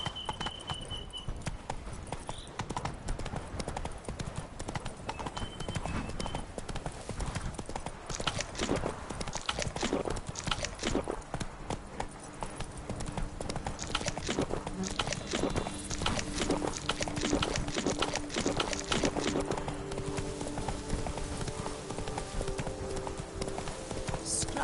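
Roach, the horse in The Witcher 3, galloping with rapid, rhythmic hoof clip-clops that run steadily for a long stretch, close and clear over faint game ambience.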